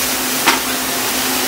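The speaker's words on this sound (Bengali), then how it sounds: "ভাজা ভাজা প্রায় হয়ে গেল এইখানটা।" Pumpkin greens with potato and lentil nuggets frying in a pan give a steady, close sizzle, broken once by a brief stir or scrape near the start.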